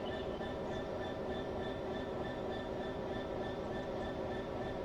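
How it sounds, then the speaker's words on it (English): Train in Train Sim World 4 departing the yard, giving a continuous loud rumble of rolling stock with a steady mechanical drone and faint high whine, unbroken throughout. "The train can now depart thanks to your help."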